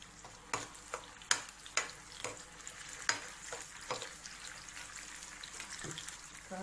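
Onion and red chili paste frying with ginger garlic paste in a pan for lobster masala, with a low sizzle under intermittent stirring clinks and scrapes at an uneven rhythm, close and moderately quiet.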